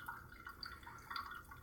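A thin stream of water pours from a gooseneck kettle onto pour-over coffee, a soft, close trickle with faint bubbling and splashing that runs steadily and quietly through the short moment, with no voices.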